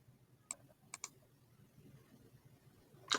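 A few sharp computer mouse clicks sound in a quiet room: a single click, then a quick double click, and another click after a pause. All are faint and close.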